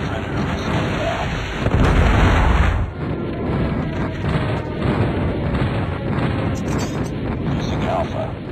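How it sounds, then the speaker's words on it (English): Predator missile and airstrike explosions from Call of Duty Mobile on the Favela map sound as loud, rolling, thunderous booms that rumble continuously. A voice talks over the blasts. "Friendly predator missile inbound."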